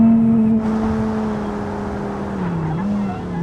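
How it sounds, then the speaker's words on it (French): A car in the BeamNG.drive driving game pulls up at a toll booth and then accelerates hard, its engine holding a steady tone before the pitch dips and climbs again, loud and close with no voices. "on va s'arrêter et accélérer d'un coup pour voir la vitesse max du véhicule"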